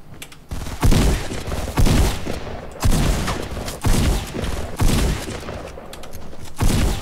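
Gunfire in Fortnite Battle Royale, loud close shots fired in a steady series of about seven spaced blasts, each with a heavy thump and a brief tail, and no talking.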